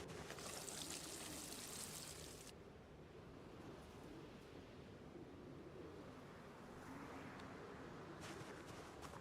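Potato plants being watered in the Project Zomboid video game, a soft pouring, splashing rush of water that pauses partway, then returns fainter and picks up again near the end, quiet with no talking.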